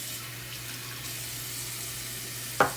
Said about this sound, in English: I like to rinse them out.